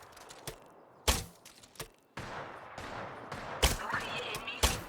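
Gunfire in a shooter video game, scattered sharp cracks and short bursts of shots, some close and loud and others distant, spread over a low background rumble as a voice talks.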